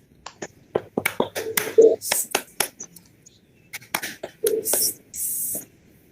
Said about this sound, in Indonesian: kita tepuk angin bersama-sama